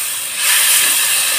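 Warm water poured into chicken masala frying in a hot pan: a loud, steady burst of steam hissing that swells after a moment and keeps sizzling, with no talk.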